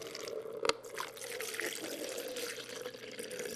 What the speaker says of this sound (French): On verse une quantité d'eau identique sur un gros élément et sur du matériau fin de même